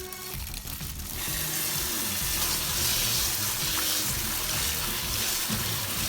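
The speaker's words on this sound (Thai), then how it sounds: "ล้างน้ำประมาณรอบหนึ่งถึงสองรอบ" Torn oyster mushrooms are rinsed under running water, a loud, steady tap stream that fills nearly the whole stretch after a brief quieter start.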